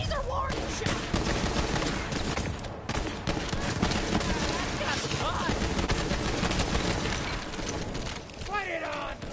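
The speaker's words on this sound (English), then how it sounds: "Some of these are warning shots!" Rapid gunfire in Borderlands 3, a dense near-continuous stream of shots and bursts over chaotic combat, with voices shouting in the mix.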